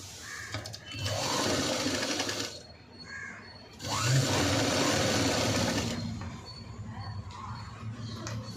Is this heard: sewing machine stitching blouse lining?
yes